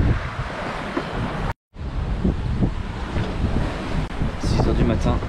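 Wind and waves on a family sailboat crossing at night in about 17 knots of apparent wind, a loud, continuous rush of gusts and water with a brief dropout partway through.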